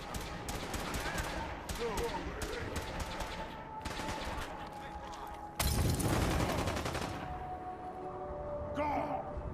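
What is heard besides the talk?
gunfire in the Fallout 4 video game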